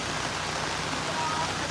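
Heavy typhoon Egay rain pouring down over floodwater in a barangay plaza in Occidental Mindoro, a dense, steady hiss of rainfall drumming on surfaces, loud and continuous throughout.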